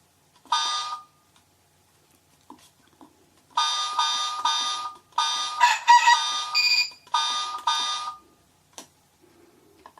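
A digital alarm clock set for 12:49 a.m. rings in repeated bursts of rapid electronic beeping, with pauses between bursts, fairly loud and close, with no talk over it.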